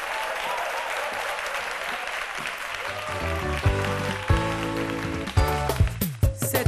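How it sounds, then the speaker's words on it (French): An audience applauds loudly for a singer on stage at an event honoring an Ivorian artist, with steady dense clapping throughout. Musical tones enter partway through and grow louder beneath the applause. "On applaudit très fort"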